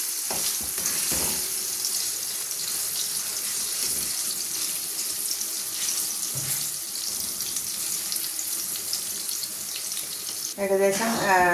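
Ripe plantain pieces sauté in hot oil for a pickle, giving a steady dense sizzle with occasional stirring scrapes, and a brief burst of running tap water near the end.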